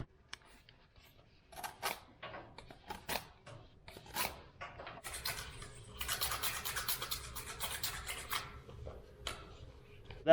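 Fletching stripped off Gold Tip arrow shafts: a series of short scraping, rasping bursts, some isolated and some in a sustained run, close and fairly quiet.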